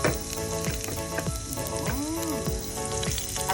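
Garlic fries in hot oil with cabbage leaves in a pan, giving a steady close sizzle and crackle with faint stirring clinks and no speech.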